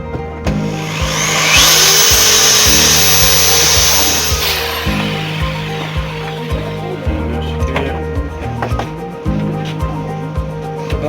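A power drill whirs up and down in repeated bursts, close and loud, with short pauses between runs and light clattering in the background, drilling holes while installing a drift handbrake in a Nissan 350Z.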